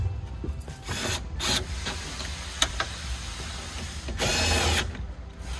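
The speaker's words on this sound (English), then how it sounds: "Go ahead and tighten these 8 millimeter nuts down." A power tool runs down 8 mm nuts on a Toyota Prius hybrid battery, with short whirring bursts of the driver separated by pauses and small handling noises, fairly quiet and close.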